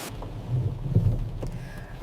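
Thunder rumbles low in a heavy rainstorm, with a soft wash of rain and a few brief louder cracks over two seconds.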